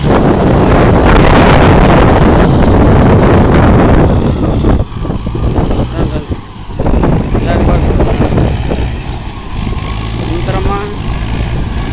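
A Mahindra 575 DI tractor engine rumbles loudly while reversing on a farm, heavy wind buffeting the microphone and briefly dipping midway as the engine drone continues.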